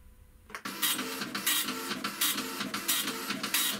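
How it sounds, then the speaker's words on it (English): A 9-pin dot matrix printer runs from a ZX Spectrum, starting after a brief pause and then buzzing loudly in rapid rhythmic bursts as the print head sweeps line by line. "Ah, those familiar 9-pin printing sounds."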